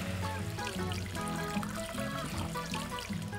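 Half a litre of beef stock poured into a pan on a stove for barbecue pork ribs, a steady close trickling, splashing stream of liquid lasting the whole stretch with no talk.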